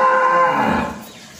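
A Brahman cow lets out a single loud, sustained moo at close range that fades out toward the end, with no talk over it.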